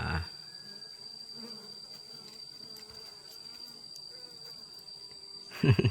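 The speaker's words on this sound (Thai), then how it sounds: "ค่อยๆสอดมือเข้าไปในรังพึ่ง แล้วก็จับออกมา" Bees from a hive being caught with bare hands make a steady, close, droning buzz throughout, with louder handling bursts at the very start and end.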